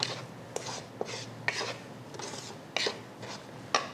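Sugar, broth powder, MSG and salt being stirred in a bowl, a series of close gritty scraping strokes with light taps of the utensil against the bowl, repeating at an uneven rhythm.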